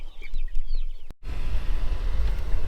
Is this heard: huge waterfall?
no